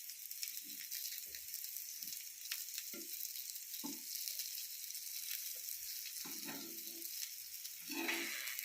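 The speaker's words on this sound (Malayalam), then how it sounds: "നല്ലപോലെ ചെറുതീയിൽ പൊരിഞ്ഞ് വരട്ടെ" Dried fish fries in oil on a low flame with a soft, steady sizzle and crackle, punctuated by occasional stirring clatters and scrapes.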